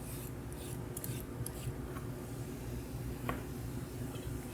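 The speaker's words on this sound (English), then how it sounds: "And we have a magical carrot. Just gonna give it a quick peel." A carrot being peeled with a hand peeler in a home kitchen, giving soft repeated rasping scrapes over a steady low hum, close and fairly quiet.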